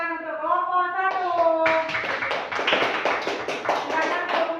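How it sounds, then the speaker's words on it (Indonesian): Students in a classroom clap for group 1 after a toothbrushing demonstration, a brief burst of taps building into steady scattered applause, with voices talking over the start. "beri tepuk tangan untuk kelompok 1"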